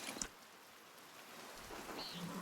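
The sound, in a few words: rain in the video game Pentiment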